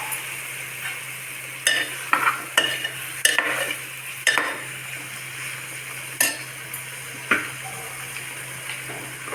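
Masala paste thinned with a little water hits hot tempering, giving scattered sharp sizzling bursts and stirring clatter over a quiet background hum, with pauses between the splashes.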